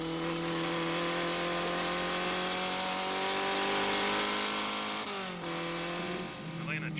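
A historic race car engine drones at steady high revs, then the pitch drops sharply as the driver changes down into a corner, followed by a brief rise as it pulls away.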